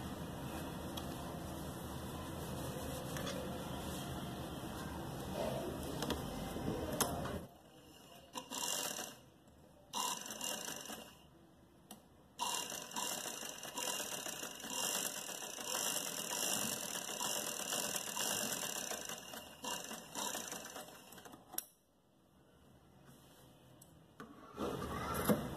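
Sewing machine stitching a designer sleeve, running in fast mechanical whirring bursts separated by abrupt pauses and short restarts, quiet and close with no talking.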